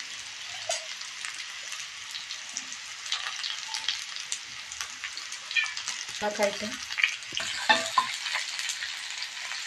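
Oil sizzles steadily as onions fry, with bursts of stirring and scraping in a pan near the end, a faint voice briefly under it.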